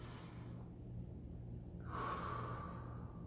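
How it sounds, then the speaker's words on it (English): A deep, slow breath drawn in through the nose and released out through the mouth during a children's breathing exercise: a soft, faint inhale hiss, then a louder, airy exhale, with no talking. "you're going to breathe through your nose and out your mouth"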